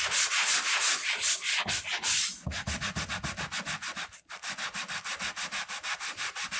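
A foam sponge loaded with clay cream scrubs back and forth over wood in steady, rhythmic strokes, close and loud, with a slower rubbing stretch first and then quick even passes.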